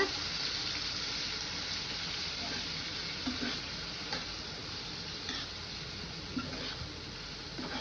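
Marinated vegetables for veg biryani stirred into a hot pan with asafoetida, a steady sizzle and frying hiss with soft scraping strokes at a moderate distance, no talking.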